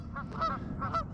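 Geese honk repeatedly along a spring shoreline in freezing conditions, a loose flock calling in overlapping bursts at close range, loud and busy with no talking.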